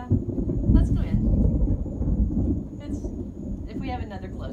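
Close thunder from an afternoon thunderstorm rumbles loudly and continuously across the whole stretch, with sharp cracks over the roll and a voice speaking faintly beneath.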